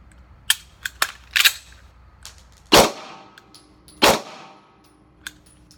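Sig P250 pistol shots on an outdoor range: several sharp, close reports spaced irregularly, with two louder, heavier blasts later on and brief echoing decay after each shot.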